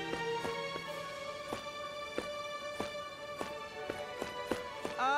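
A horse gallops in the 2015 King's Quest video game on PS4, hooves knocking in an even, quick rhythm of light clops over sustained tonal game music, with no voices.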